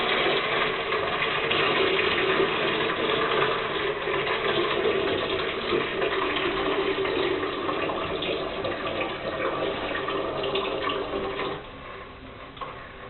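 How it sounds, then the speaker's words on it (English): Water drains from an opened plumbing valve through a hose into a bucket as a loud, steady rushing flow that thins out and drops near the end. "You want to wait until all the water has stopped coming out."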